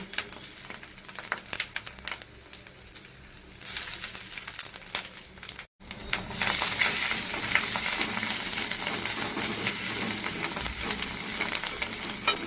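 Garlic sizzles in a hot pan with fried onions while being stirred, quieter at first, then a loud steady crackle and hiss takes over after a brief gap.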